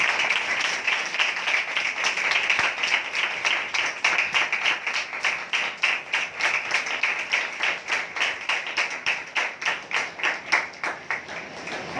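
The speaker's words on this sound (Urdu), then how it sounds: "خدا یسوع کی قدرت کے لیے زوردار تالیاں بجائیں" Congregation in a church clapping loudly and steadily during a Sunday holy communion service, a dense wash of many hands with a rhythmic pulse emerging toward the end, sustained throughout without speech.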